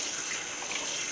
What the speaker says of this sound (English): So I'm just going to add some water to that.